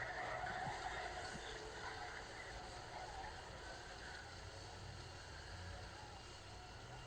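Electric racing karts pulling away from a standing start at an endurance race, a dense whine and tyre noise swelling briefly and then holding steady, faint and distant with a commentary-like voice mixed in.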